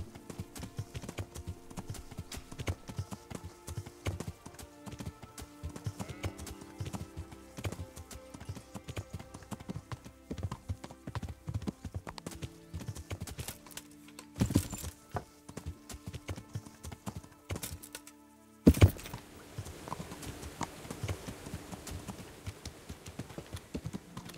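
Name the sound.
horse hooves clip-clopping in video game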